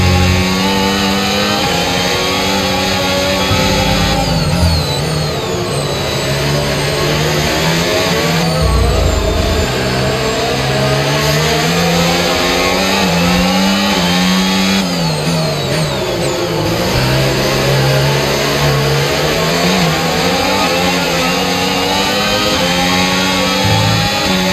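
An F1 car accelerating in the video game F1 25 screams loud and close, with the engine pitch sweeping up through repeated gear shifts during a race.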